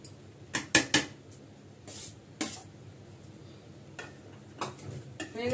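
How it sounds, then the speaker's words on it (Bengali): A metal ladle knocks and scrapes against a pan as hot cooked rice is pressed down, several sharp clinks in an uneven rhythm, close and clear with no talking. "হাতা দিয়ে আস্তে আস্তে ভাতটা চেপে দেবো।"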